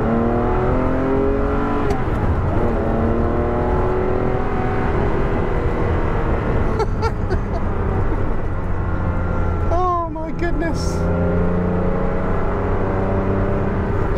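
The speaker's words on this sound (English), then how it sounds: "There's a slight mutedness of the engine compared to the carbureted one, but not so you'd notice." A fuel-injected Ferrari 512 BBi engine revs in a steady, loud drone with rising and falling pitch sweeps, the car heard from inside while it is driven, with no talk.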